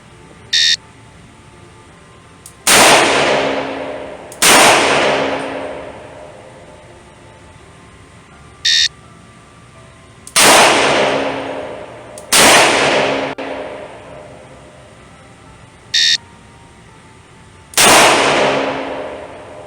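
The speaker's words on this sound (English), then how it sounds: "On command, fire 2 rounds in 2 seconds, assume the ready position." A circa-1975 Colt Python revolver fires at a range in paired shots, loud and close with echoing tails, each pair cued by a short electronic beep.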